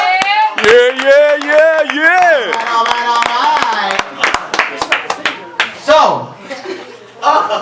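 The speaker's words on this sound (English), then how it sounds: "Clap it up, clap it up, clap it up." Audience clapping for volunteers being called on stage at a community event, with voices and laughter over a burst of hand claps that runs through the middle and then trails into scattered claps.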